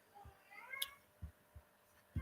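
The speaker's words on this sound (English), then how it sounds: "Excuse my meowing of the cat." Faint, high cat meows drift through a quiet indoor room, with a few soft, low thumps in between and no talking.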